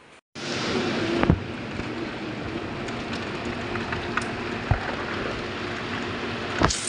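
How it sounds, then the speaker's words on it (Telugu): Heavy rain pouring steadily in strong wind, a dense constant hiss that starts abruptly and continues with a few sharp knocks and thuds, no talk. "చాలా గట్టిగానే పడుతుంది వర్షం."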